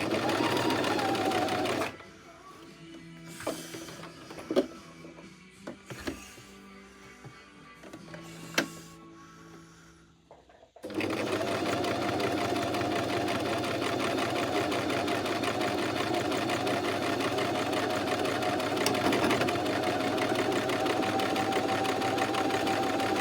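A sewing machine stitches fabric with a steady, close mechanical whirr, stops briefly while someone speaks and small handling clicks and knocks are heard, then resumes its continuous running drone to the end.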